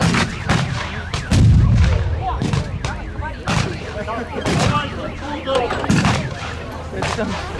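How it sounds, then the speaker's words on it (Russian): Repeated booming artillery blasts at a reenactment of 1942 summer battles, some distant and some closer, land at irregular intervals over a constant rumble, with voices mixed in. "Начинается работа артиллерия противника."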